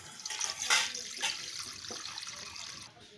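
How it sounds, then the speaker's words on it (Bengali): Water is poured into a karahi set on a lit clay stove for boiling soya chunks, a soft splashing pour that fades away after a few seconds. "কড়াইয়ে দিয়ে দেবো জল।"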